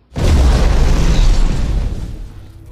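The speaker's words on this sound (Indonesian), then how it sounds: "benda yang ditaruh oleh teman Zoe tiba-tiba meledak" Bag bomb exploding inside a school office in a film scene: one sudden, loud, deep boom that hits at once and rumbles for about two seconds before slowly fading out, with no voices.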